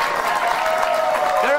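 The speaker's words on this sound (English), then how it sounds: "They are applauding for the mafia." Crowd applauding steadily at a political gathering, dense clapping that stays loud and even throughout, with voices mixed into the applause.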